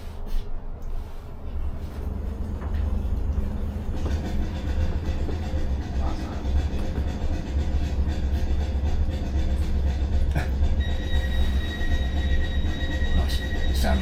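A Class 455 South Western Railway electric train from the 1982-era fleet running past: a loud, continuous low rumble of motors and wheels with rail noise and brief high whining tones, near and steady, without speech.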